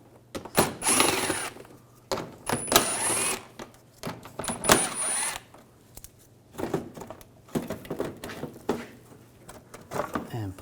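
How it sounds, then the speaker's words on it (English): An 8mm socket wrench ratchets as screws come out of a 2006-2010 BMW 550i front bumper panel, several clicking bursts of a second or so each, close and fairly quiet, separated by pauses. "We're going to remove this panel. Use an 8mm socket."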